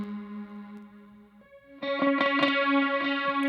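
Electric guitar chords processed through a Soundtoys MicroShift pitch-shift effect, a sustained note followed by a louder, thickened, widened strummed chord with a chorus-like shimmer.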